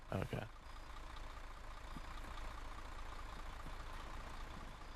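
An IDAP truck reversing in the video game Arma 3, a low steady engine rumble that carries throughout after a brief burst of other sound at the start.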